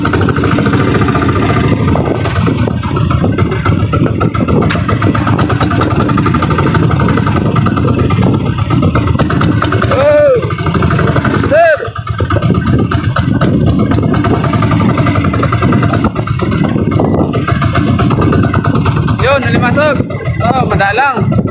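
A small fishing boat's engine drones on at sea through rough waves, a loud, steady, unbroken motor hum running for the whole stretch while someone talks over it.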